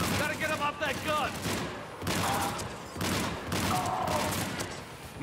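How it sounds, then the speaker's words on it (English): Mounted gun firing in the Mass Effect video game, a dense, continuous barrage of rapid shots and booms layered with combat noise and voices talking over it. "Commander, Cooper on the gun. Gotta get him off that gun"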